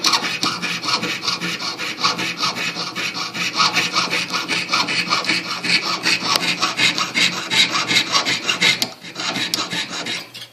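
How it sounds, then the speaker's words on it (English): A jeweler's saw rasps rapidly and continuously through a silver ring top in quick, even strokes, close up, pausing briefly near the end before resuming. "I'm just sawing the last bit of the cut so you can see the finished job"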